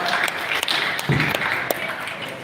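Moderately loud applause rolls through an audience for swimming coaches at a conference, a continuous wash of clapping with a few sharper individual claps standing out, no speech over it.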